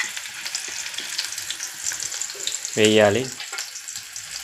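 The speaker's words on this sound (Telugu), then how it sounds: "నూనె కాగినాక నూనె వేడైనాక ఏం వేయాలి ఇప్పుడు? పచ్చిమిర్చి, ఆనియన్స్" Green chillies and onions dropped into hot oil for a fish curry give a steady, soft sizzle that runs throughout, with a short spoken word cutting in near the end.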